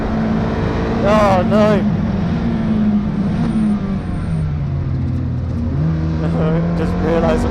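A Ferrari 430 GT3 Challenge race car's engine drones loudly and steadily from onboard during a track day, its pitch rising and falling with gear changes as it comes back on the power, while a driver talks over it.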